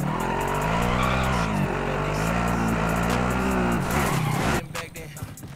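Car engine revving steadily with tire squeal and skidding in a Call of Duty Modern Warfare driving sequence, loud and continuous with a strong engine drone, dropping off sharply near the end.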